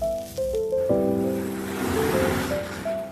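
Roasted spice masala ground in a kitchen mixer grinder: a loud whirring grind with a brief motor start, then a continuous rushing churn for a few seconds.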